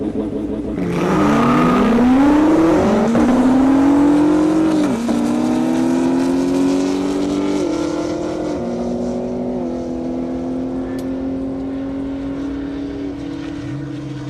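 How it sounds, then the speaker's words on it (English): Drag race cars, including a Camaro ZL1, launch hard down an airport runway, engines roaring loud and close before the pitch climbs through gear changes and the sound fades into a long, sustained drone as they pull away. "Pretty good drag race right there, the ZL1."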